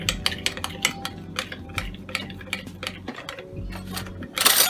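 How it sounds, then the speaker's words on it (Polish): A milk and flour mixture is stirred in a bowl, producing a run of soft rhythmic clicking and tapping strokes, fairly quiet and close, with a brief louder rustle at the end. "Muszę to dobrze wymieszać."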